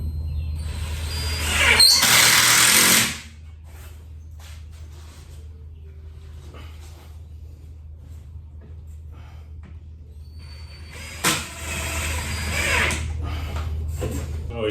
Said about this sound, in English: And then you put a screw at each end.